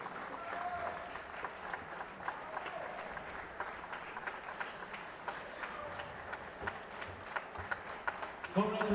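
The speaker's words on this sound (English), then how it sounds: "Let's hear a big round of applause for our European champions." An arena crowd applauds European arm wrestling champions at a junior left-arm finals event, steady clapping with scattered sharp claps, under faint voices, ending with a louder burst near the close.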